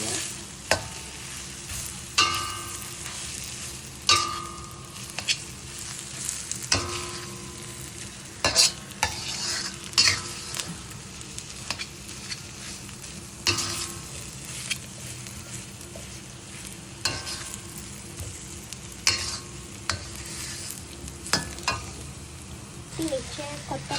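A spicy potato cutlet mixture gets stirred in a pan, a spatula scraping in irregular, repeated strokes over a soft, continuous sizzle, close and moderately loud.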